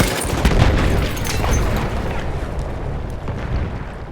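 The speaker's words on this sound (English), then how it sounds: "Grenade out!" A grenade explosion in the Battlefield 1 Kaiserschlacht operation, heard as a dense, rumbling boom that rolls on amid continuous distant battle noise, loud and close throughout.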